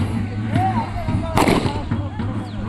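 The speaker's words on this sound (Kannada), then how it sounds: "ಪಟಾಕಿ ಈಗಲೇ ಶುರು ಹಚ್ಕೊಂಡ್ಬಿಟ್ಟವ್ರೆ" A sharp Diwali firecracker bang bursts out midway in a village, loud and sudden, over a busy outdoor background with voices and a low steady hum.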